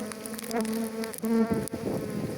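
Bees buzzing close by as a colony is moved from beneath a rock into a hive box, a continuous droning hum with wingbeats rising and falling as insects pass near.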